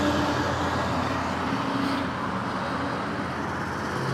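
Steady roadway traffic noise while waiting at a traffic light on a Himiway Zebra e-bike, with broadband car and engine hum holding evenly throughout, fairly close and continuous, no distinct passes.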